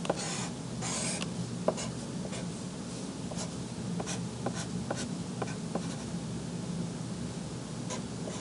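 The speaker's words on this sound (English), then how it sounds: "I'll draw it on the paper" Pen or pencil drawing a function graph on paper during a maths lesson, heard as close, steady scratching and scribbling strokes with short sharper taps, continuous for several seconds with no talking.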